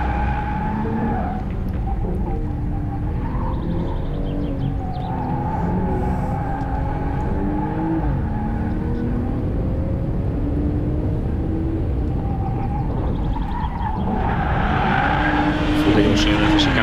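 A BMW M240i or 440i engine roars and whines as it speeds through a tight chicane, tires squealing, with people talking over it throughout.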